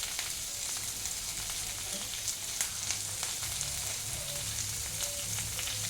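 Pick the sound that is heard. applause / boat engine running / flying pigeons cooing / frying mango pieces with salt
frying mango pieces with salt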